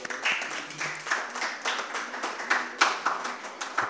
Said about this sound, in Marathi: त्याबद्दल आपण त्यांचं स्वागत करू टाळ्या वाजवून